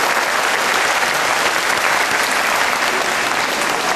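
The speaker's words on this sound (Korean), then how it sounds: "크리스탈 라인 댄스 여러분에게 박수 부탁드립니다." A crowd bursts into dense, steady applause for the Crystal Line Dance group after their Saturday night set on the central stage at a Seongnam community club concert. The clapping is loud and continuous for the whole stretch.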